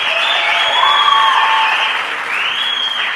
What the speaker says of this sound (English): Please join me in giving all of our sponsors a huge round of applause.